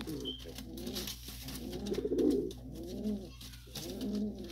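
Pigeons coo in low, rolling bursts, several phrases in close succession under steady background noise, with no voices, as sport high-flying pigeons are about to be released.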